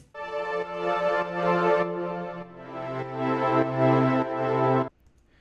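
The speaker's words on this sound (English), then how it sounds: "You see that bumping effect?" A sustained, droning tone in a music track swells and dips in volume, giving a pulsing bumping effect. It holds steady at moderate level for about five seconds, then cuts off abruptly.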